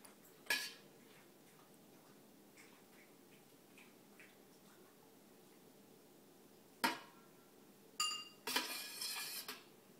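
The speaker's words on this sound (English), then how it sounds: "Now it's time to stir it 6 times clockwise." A spoon stirs liquid in a cup for a school science experiment. A few sparse, sharp clinks come first, then a quick cluster of rattling clinks near the end, all close and quiet with no speech.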